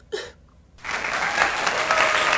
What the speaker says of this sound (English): Cue the round of applause, please.